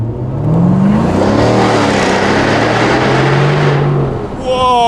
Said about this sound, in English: I will leave you with these final sounds of this V8. We are in sport mode, exhaust is back on.